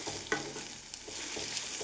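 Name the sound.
scrambling and frying egg in pan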